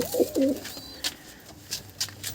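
A pair of low, throaty coos from pigeons in a loft of high-flying tumblers, close and distinct, followed by faint chirps and quiet rustle, with no talking.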